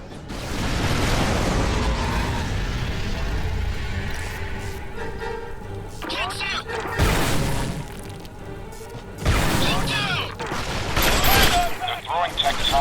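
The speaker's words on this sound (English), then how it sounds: "They're throwing tectonic grenades," Tectonic grenades going off in the video game Fracture, loud rumbling blasts and crackling debris bursts that surge repeatedly over a dense wash of battle noise and game voices.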